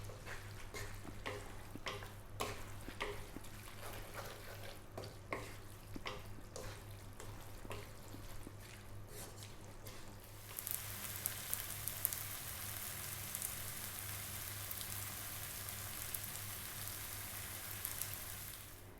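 Tomato spaghetti sauce cooking in a pan gives a steady soft sizzle with scattered clicks of stirring, then a denser, hissier bubbling spread for the second half; quiet and continuous, with no talk.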